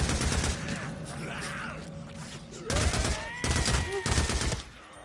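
An MG55 machine gun in the video game Days Gone fires at a horde in rapid, rattling bursts. Loud stretches of fire alternate with quieter gaps before a final burst dies away.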